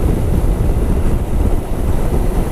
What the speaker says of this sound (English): if it wasn't so windy